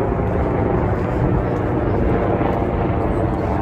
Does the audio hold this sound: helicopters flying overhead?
yes